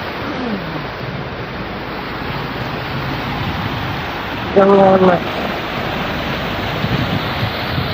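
Floodwater after rain in Saudi Arabia rushes across a road, a loud, continuous broadband wash like surf, with a brief tonal sound partway through.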